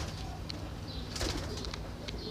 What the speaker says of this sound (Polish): No jest kolejny gołąbek z północy.